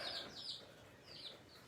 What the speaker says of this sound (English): Here's our baby chicks.